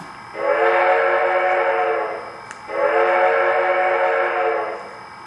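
Two long steady blasts from the steam whistle of an O scale Southern Pacific AC-12 model locomotive, each lasting about two seconds with a short gap between, loud and close with no talking.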